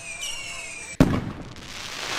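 A single sharp firework burst in a video game hits loudly after a high whistling tone, then fades into a crackling, hissing tail.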